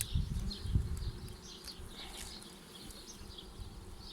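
A low, steady buzzing hum of honey bees at a hive fills the background, faint and continuous, with a few soft rustles near the start.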